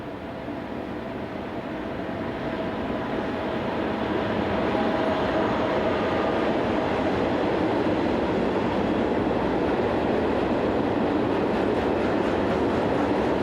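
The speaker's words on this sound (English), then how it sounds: "HGK hired 185544 trundles through with a train for Köln in Germany." A hired HGK Class 185 electric locomotive, number 185544, hauls a freight train bound for Köln through Germany, a steady loud rumble of wheels and rolling wagons building over the first few seconds and then holding continuously.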